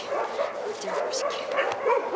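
Dogs at a dog shelter bark and yip in a steady run of short calls, moderately loud and fairly close, over a busy background.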